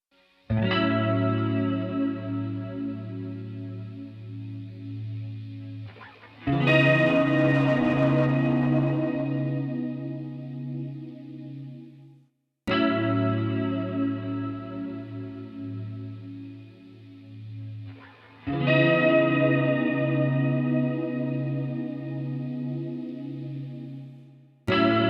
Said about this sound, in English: I'm going to go ahead and play the guitar track again, and I'm going to disable and enable the plugin